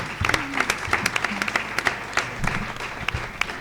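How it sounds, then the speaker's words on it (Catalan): A live audience claps for Mendel, a brief burst of dense, crisp applause with sharp individual hand claps, close and lively, lasting a few seconds. "Un aplaudiment per Mendel."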